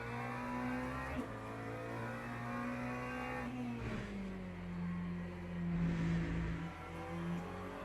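Race car engine in the driving game Le Mans Ultimate, a steady droning hum that shifts pitch as the car speeds up and slows, continuous and fairly quiet, with no speech.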